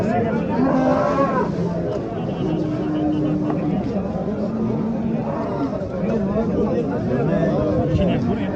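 Cows moo repeatedly at the Shohidon livestock market, where cows and pregnant cows are being sold. The lowing comes amid a steady crowd babble and nearby talk.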